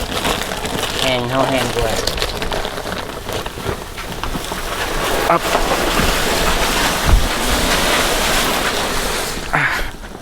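Heavy rain pouring down at a rural home: a dense, steady roaring hiss that continues without a break, while people talk over it.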